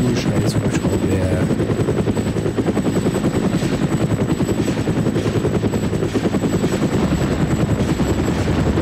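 A helicopter in ArmA Cold War Assault, its steady rotor thump and engine roar filling the whole stretch, loud and continuous, with bursts of gunfire crackling underneath.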